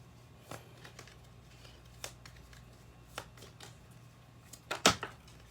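A few soft papery riffles and flicks of tarot cards, scattered and quiet, ending with a sharper burst of shuffling near the end.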